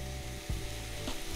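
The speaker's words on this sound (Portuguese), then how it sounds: "eu tô refogando aqui a linguiça, né? O alho, coloquei o alho." Calabresa sausage, garlic and onion sauté in a pan, giving a faint, steady sizzle with a few soft scrapes of stirring, quiet and close, with no talking.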